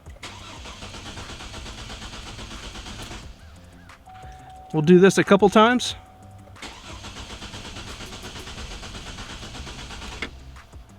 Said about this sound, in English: just start the car and let the car run until it dies